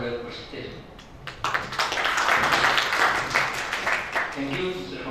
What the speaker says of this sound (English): Okay, applause for the presentation.